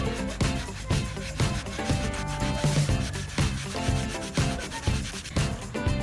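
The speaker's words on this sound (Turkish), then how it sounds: "Hafif hafif zımparalıyoruz." Steady hand sanding of a bicycle tire with sandpaper, rhythmic rubbing strokes, close and fairly loud, repeating about every half second with no talking.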